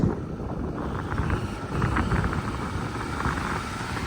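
A Ford F350 pickup's 6.0 Powerstroke diesel with 160,000 miles and a suspected turbo fault revs in a broad, steady rumble with a gentle swell in the middle, heard alone without talk.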